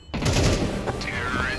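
A rapid burst of gunfire in Counter-Strike 2, dense and loud, with a rising whine trailing off afterward.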